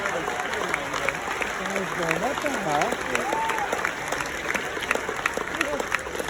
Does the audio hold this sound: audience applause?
yes